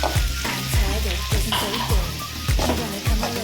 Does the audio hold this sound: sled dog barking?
no